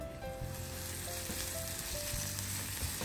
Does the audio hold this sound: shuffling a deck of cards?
no